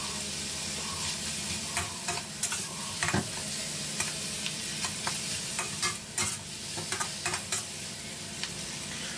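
Squid and salted egg stir-frying in a hot pan, with a steady sizzle and repeated scraping, stirring clatters of the utensil against the pan, close and without talk.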